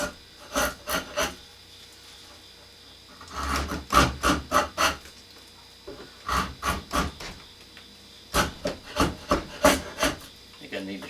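An old draw knife is sharpened by hand with quick groups of rasping strokes, about four to six per burst, repeated in three close, fairly loud bursts separated by pauses.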